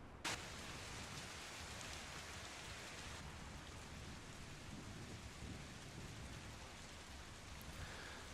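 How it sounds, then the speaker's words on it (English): Rain starts falling as a storm breaks, a dense steady hiss that holds at an even, faint level throughout, with a sharp crack near the start and a low rumble underneath. "the clouds break and the rain begins"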